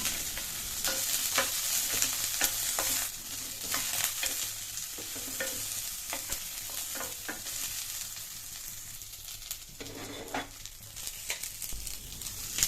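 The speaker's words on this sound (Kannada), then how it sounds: "ಸ್ವಲ್ಪ ಒಂದು ಸ್ಪೂನ್ ಆಯಿಲ್ ಹಾಕ್ಕೊಂಡು ಸ್ವಲ್ಪ ರೋಸ್ಟ್ ಮಾಡ್ಕೊಬೇಕು" Close, steady sizzling of spices roasting in a little oil in a pan, with frequent scraping and stirring clicks, no voices, continuing throughout.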